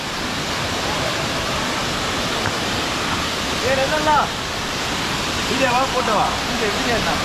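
Siva Kona waterfall at Rapuru pours in a steady, dense rushing roar close by, with brief voices talking over it in the second half.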